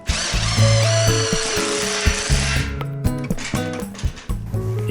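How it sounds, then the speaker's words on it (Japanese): An impact-driver-powered drill winch rated for 300 kg hoisting a roughly 100 kg camper shell onto a 660cc 4WD Hijet Jumbo kei truck: a loud, close, continuous motor whine with shifting pitch and mechanical rattling. "インパクトドライバーを動力に300キロ持ち上げることができます。"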